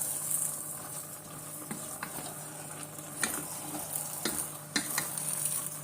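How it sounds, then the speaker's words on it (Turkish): An okra stew with a squeeze of lemon is stirred in a pan, with a steady soft sizzle and a handful of distinct utensil scrapes and taps spaced irregularly over it; no voice. "Şimdi birazcık bunu karıştırıyorum."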